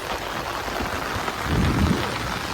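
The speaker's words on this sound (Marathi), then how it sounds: "भरपूर पाऊस आहे आज बघा पाऊसच पाऊस" Heavy rain pours down steadily on Konkan farmland, a dense hissing wash with a low rumble swelling briefly partway through.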